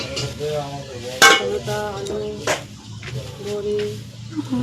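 A mother cooking in a home kitchen, stirring pots: metallic clinks and scrapes of a utensil against cookware, with a sharp clatter and a faint sizzle beneath a voice talking nearby.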